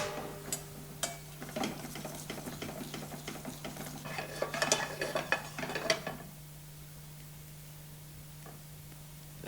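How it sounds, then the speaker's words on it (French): Butter sauce for fish is whisked vigorously in a pan, giving a run of quick clinking and scraping strokes in uneven bursts for about six seconds. A steady low hum continues underneath and stays after the whisking stops. "Montez la sauce au beurre en la fouettant vivement."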